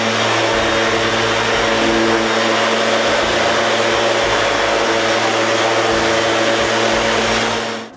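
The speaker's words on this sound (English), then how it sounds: "But I finish the job with René's sander" Orbital sander working over glued-up wood in a woodworking shop, a steady loud motor whine with broadband sanding hiss running continuously, close and alone without talk.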